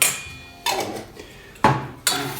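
Spoon or whisk knocking against a bowl while stirring a sauce of mustard, brown sugar, vinegar and dill, four sharp clinks spaced apart, each ringing briefly before fading, close and fairly loud.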